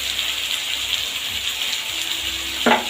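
A paste of ginger, tomato, green chili and cumin with turmeric and salt fries in hot oil, a continuous bright sizzle with a short louder burst near the end.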